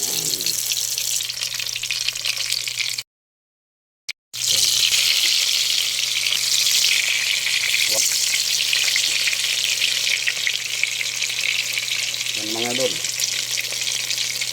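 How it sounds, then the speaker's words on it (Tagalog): Eggplant fries in oil in a pan with a loud, steady, close hiss that runs almost without pause, broken only by a brief drop to silence near the start and a few faint clinks. "Yan ang kawali natin mga idol at naglagay na tayo ng mantika. Ayan na mga idol, nakasalang na ang ating eggplant."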